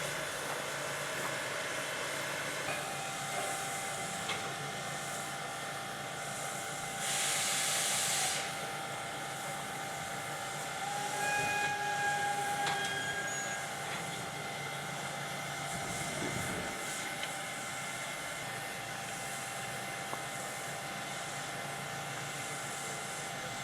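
An East Broad Top narrow gauge steam train on a Pennsylvania line hisses steadily with loud steam and a low rumble, and short bursts of louder venting break through.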